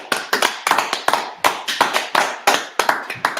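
A congregation at a Sabbath service claps in a quick, uneven burst of sharp hand slaps, loud and close, with no one talking over it.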